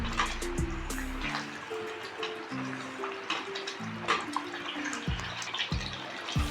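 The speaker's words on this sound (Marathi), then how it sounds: "हे बघा हे आता कसं असं हे बॉईल होतं आहे" Aluche fatfade, a taro-leaf curry, boiling in a pot with soft bubbling and popping, close by and moderately quiet, with a few brief tonal clinks over it.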